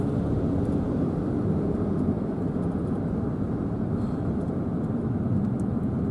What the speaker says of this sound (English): A plane's taking off in front of us.